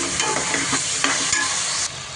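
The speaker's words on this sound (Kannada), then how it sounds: "ಒಂದು ಮಿಕ್ಸ್ ಕೊಡೋಣ ನೀಟಾಗಿ ಒಂದು ಮಿಕ್ಸ್ ಕೊಡಬೇಕು" Soaked pearl millet and tomato are stirred in a hot pan, giving close, scraping stirs with a light sizzle underneath, a few distinct strokes across a couple of seconds.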